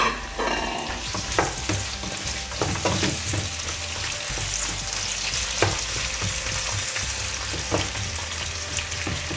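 Sliced red and green peppers fry in a pan with a steady, close sizzle. Clicks and scrapes from stirring recur throughout, with no talk.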